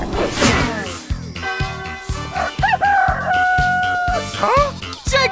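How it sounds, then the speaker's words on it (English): Cartoon-style chicken sound effect: a rooster crows amid bursts of clucking, with sharp rhythmic thumps and swooping tones layered in, loud and busy over a few seconds. "Chicken!"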